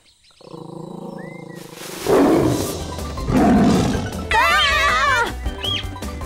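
Cartoon tiger in a rainforest chasing a baby tapir lets out a loud, close growling roar in several bursts, followed by a high wavering animal cry, in an animated wildlife program.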